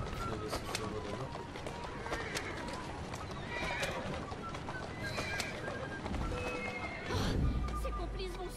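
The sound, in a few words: horse neighing and hooves in video game Assassin's Creed Syndicate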